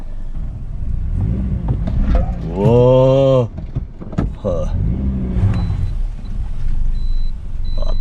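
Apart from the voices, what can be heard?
Toyota Yaris car engine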